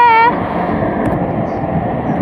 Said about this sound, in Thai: รถไฟกำลังจะเข้าสถานี